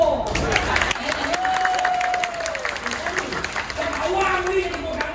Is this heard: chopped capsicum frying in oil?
no